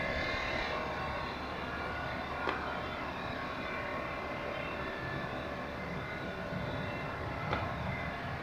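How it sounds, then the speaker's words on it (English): A Swiss Airbus A330 arriving from JFK vacates the runway at Zurich Airport, heard as a distant, steady jet-engine rumble that holds evenly throughout with no voices. "There's the Swiss A330 from JFK, vacating the runway."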